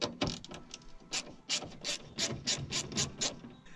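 Socket ratchet clicking in repeated bursts while loosening the tail light bolts on a Nissan Titan pickup, close and fairly loud with steady rhythmic strokes and no talk over it.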